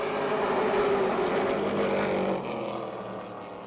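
Race cars roar around the Motordrome Speedway track during a green-flag battle, a steady dense engine drone that eases slightly toward the end, with no voices.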